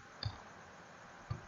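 Two isolated, crisp key clicks on a computer keyboard, spaced about a second apart and quiet in an otherwise still room, while numbers are entered in MYOB accounting software.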